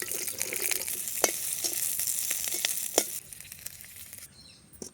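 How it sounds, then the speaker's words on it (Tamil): Peeled onions sizzle and crackle steadily in hot wood-pressed oil, with a few sharp pops and stirring scrapes before the frying noise drops off near the end. "உரிச்ச வெங்காயத்தை எண்ணெயில் நல்லா வதக்கிக்கலாம்."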